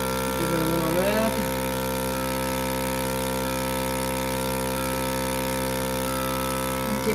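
A milking machine runs on a cow on a farm, a steady mechanical hum with a constant drone that persists throughout, while a person speaks briefly near the start.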